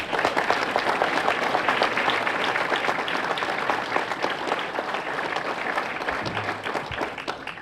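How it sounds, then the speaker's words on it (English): An audience at a scholar breakfast gives a sustained round of applause for former coaches, steady dense clapping through the whole stretch with a faint low murmur beneath. "Let's give you a round of applause."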